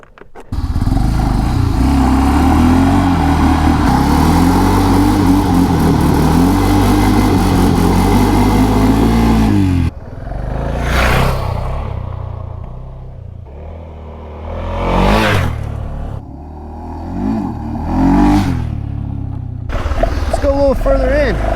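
A BMW F650GS dual sport motorcycle riding off road, its engine droning loud and steady at first, then surging in several sharp, separate revs that rise and fall close by.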